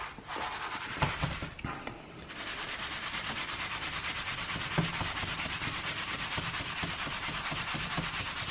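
A cordon bleu coated in egg is rolled through breadcrumbs, giving a continuous soft gritty rubbing and rasping sound, close and fairly quiet, with no talking.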